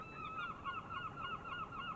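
Geese honk in a quick, repeated series of nasal calls at moderate distance, a steady run of overlapping honks with faint background rumble.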